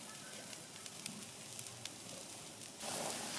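A tuna steak searing on a hot grill, giving a steady, faint sizzle with small crackles throughout and a brief louder hiss near the end.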